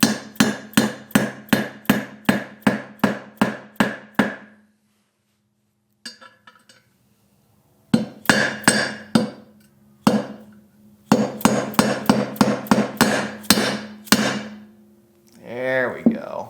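Sharp metallic hammer blows drive a part into a Honda CRF300L motorcycle engine, struck in quick rhythmic bursts of about ten hits with pauses between, close and loud.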